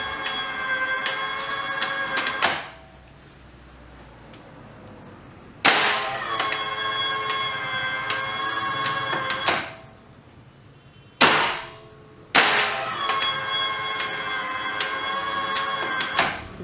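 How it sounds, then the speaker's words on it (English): A Hyundai HGN40 air circuit breaker is tripped manually during testing with a 220-volt AC supply; loud, sustained ringing bursts from the unit come in three long stretches separated by quiet gaps, with no talking. "At first, we trip the breaker manually."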